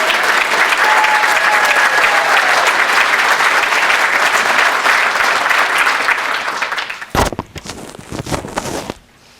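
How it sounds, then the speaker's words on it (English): A large crowd at a police awards ceremony applauds loudly and steadily, then the clapping thins out and fades to a few scattered claps before stopping. "Maybe we can give her a round of applause."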